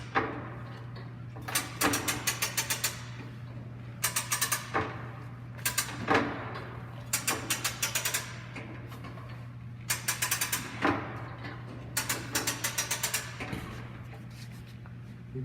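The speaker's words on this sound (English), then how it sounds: "we're going to crank this up until we line up the next bolt holes" A hydraulic press being cranked up to line up bolt holes, heard as repeated bursts of quick ratcheting clicks from the pump handle, several strokes per burst, over a steady low hum, close and alone.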